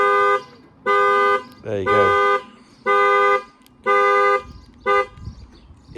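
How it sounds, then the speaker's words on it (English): Volvo P3 car horn set off by the security panic button: loud, steady honks in a repeated on-off pattern, six blasts of varying length with brief gaps, close by, with a voice briefly speaking between them. "it sets off the horn."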